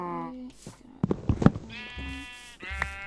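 Sheep bleating in a video game, several wavering calls from nearby, repeated across a few seconds with brief gaps, fairly loud and clear over faint background sound.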